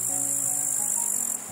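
Steady, rapid insect chirping from a grasshopper, a continuous high trill held at an even level throughout and heard alone without any voices.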